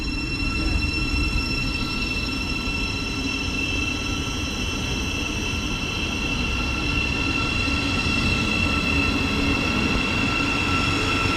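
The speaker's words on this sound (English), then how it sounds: "We'll just let this train leave and go from there." A Thameslink electric train leaves a station platform in a steady, continuous rumble with a faint high whine, holding close and even throughout. No voices.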